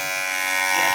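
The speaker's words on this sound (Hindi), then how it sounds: "बाकायदा ट्रिमर लाकर उसकी चोटी काटी गई और उसके सिर के बाल" An electric trimmer buzzes steadily for about a second as it shaves a man's head, a constant close motor whine.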